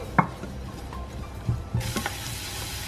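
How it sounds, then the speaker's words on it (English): Onion and garlic sautéing in butter, with a few sharp stirring clicks and scrapes against the pan over a soft sizzle that grows brighter and steadier partway through. "Ini saya mau tumis bawang bombay dan bawang putihnya."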